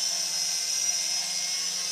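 Drone ST9 propellers in flight, giving a steady high-pitched whir with a constant tone and a low buzzing hum underneath, unbroken and fairly close throughout.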